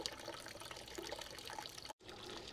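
Vinegar pours steadily from a hose into a vintage Honda CB450 K0 fuel tank, a continuous wet splashing and trickling that cuts out abruptly for a split second near the end before resuming.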